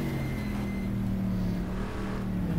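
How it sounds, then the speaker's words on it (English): A Corvette C3 racing at Sebring in the GTR2 sim, its V8 drumming loud and steady with a low gurgling burble from the exhaust as the revs fall, heard alone without voices. "that gurgling sound from the backfire when it's coming back down"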